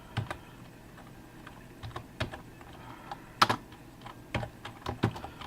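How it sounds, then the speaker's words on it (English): A server script being typed in the nano editor on a computer keyboard, with quick irregular keystroke clicks in short bursts, close and fairly quiet, with no talking. "we'll use nano here and make a script, and we'll type it out this one time"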